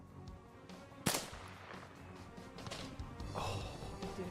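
A single sharp sniper shot in a Roblox video game, faint and quick, followed by low game noise and scattered soft clicks, with no talking.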